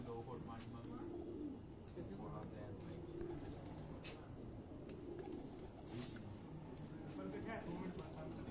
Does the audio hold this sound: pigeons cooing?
yes